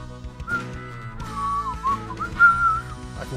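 A person whistles a song's bass line, a clear melodic whistle with short phrases and pitch glides, close and alone without talk.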